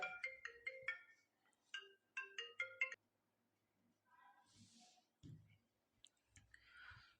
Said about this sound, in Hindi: एक मिनट, फोन आ रहा है यार।